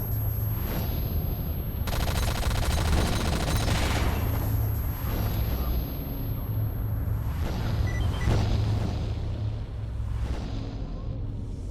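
Sustained gunfire in the game STALKER, loud bursts of automatic fire and booming shots repeating in waves over dense background noise, with no talking.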